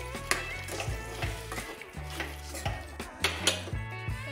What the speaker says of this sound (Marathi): हे भाज्याने चांगल्या प्रकारे मिक्स सुद्धा करून घेत आहे